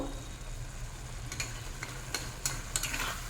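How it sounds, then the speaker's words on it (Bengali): A spoon stirs coriander-cumin powder into a simmering prawn curry with jackfruit seeds, giving faint scraping and soft sizzling with a few sharp clinks against the pan, close and alone. "ধনে জিরে গুঁড়ো চিংড়ি মাছের সঙ্গে খুব ভালোভাবে মিশিয়ে দেবো"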